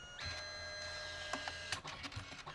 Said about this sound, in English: It will print each color one by one.